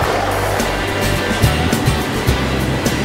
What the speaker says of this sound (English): stunning blue ocean greets us as we arrive on the coast at Kennedy Bay